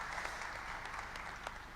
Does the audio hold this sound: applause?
yes